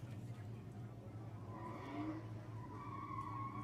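Nissan S13 and S14 drift cars skidding through a turn at a grassroots drift event, a sustained tire squeal over a droning engine, moderately distant, with crowd or announcer noise underneath.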